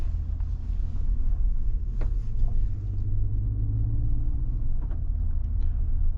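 A 2025 Mercedes G580 electric SUV plays its synthetic V8-like engine sound, a steady low rumble with wind noise, heard from inside while driving.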